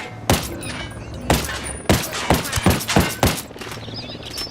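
Gunfire erupts in Ghost Recon Wildlands, a burst of loud close shots, some single and some in quick clusters, cracking over a low ambient game hum.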